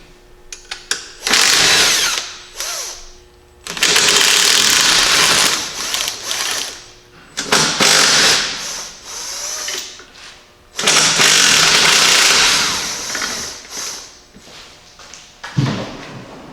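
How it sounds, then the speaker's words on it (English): Impact wrench removing shock absorber bolts on a Jeep Cherokee XJ during a suspension lift, four loud rattling bursts of several seconds each with short gaps and clanks between. "I'm going to zip these off with an impact"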